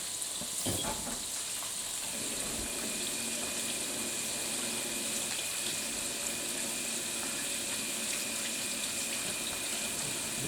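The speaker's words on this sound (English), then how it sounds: "Make sure you are thoroughly washing your hands" Tap running steadily into a kitchen sink as hands are washed after coating chicken goujons in seasoned flour and egg, a continuous close hiss of water with slight splashing and no talk.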